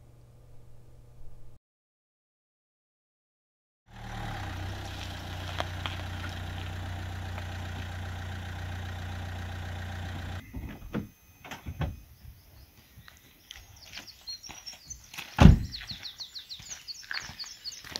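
Free early-morning car park on Skye near a coastal walking track: a low steady engine idle hums for several seconds, then gives way to birdsong chirps and a sharp close bang or thump.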